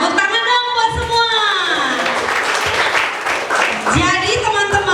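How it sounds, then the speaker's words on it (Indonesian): Applause from a congregation at a combined Christmas worship service of a Papuan orphanage and a children's church, a steady wash of clapping running the full length with a voice speaking over it and musical tones at the start and end. "tepuk tangan dong buat semua."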